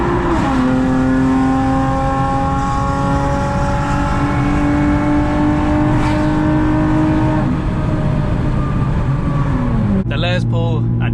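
A nearly 400hp CT2 car pulls hard in third gear, its engine note climbing steadily and loud from close inside the cabin, with a rising whine layered over the roar before an abrupt shift near the end.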